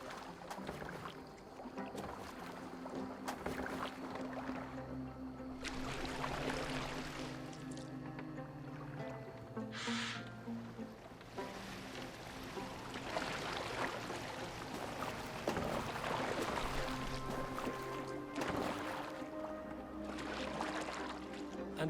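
A boat glides over water in Assassin's Creed Valhalla, with soft rushing and splashing wash running beneath steady background music, while characters talk over it for much of the stretch.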